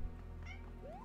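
A pet cat gives a short meow, rising at the end, heard close over a steady hum from a Mario platform game playing in the room.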